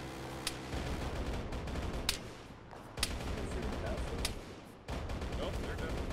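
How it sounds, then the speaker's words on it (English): Gunfire in the Arma military video game comes as several sharp, separate shots spread out over a few seconds, with a constant background rumble and what sounds like radio chatter underneath. "Nope, they're definitely shooting at us."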